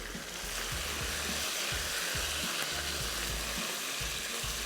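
Chicken pieces fry with salt, garlic and ginger in a hot pan, giving a steady, loud sizzle throughout with occasional stirring scrapes and no voices.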